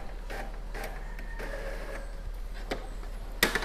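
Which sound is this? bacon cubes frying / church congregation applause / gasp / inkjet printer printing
inkjet printer printing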